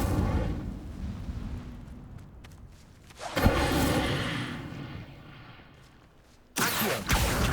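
Incendio fire spell cast in Hogwarts Legacy: bursts of roaring, crackling flame with a low thud, one swell in the middle and a sharp loud blast near the end, no talk.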